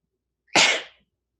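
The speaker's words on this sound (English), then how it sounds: "I'm going to sneeze." A single close, forceful human sneeze: one sharp, loud burst that tails off within about half a second, with silence before and after.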